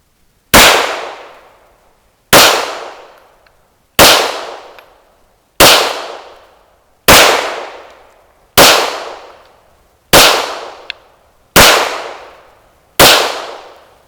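Nine shots from a Smith & Wesson M&P 9 Pro Series pistol at a shooting range, each a loud, sharp crack with a short decaying ring, spaced evenly about one and a half seconds apart.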